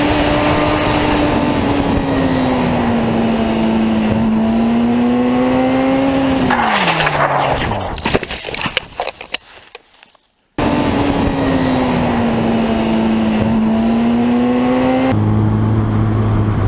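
Motorcycle riding fast on a rural twisty highway, the engine note droning steadily and shifting pitch, then a rough scraping, tumbling stretch that drops to a brief silence before the engine drone resumes.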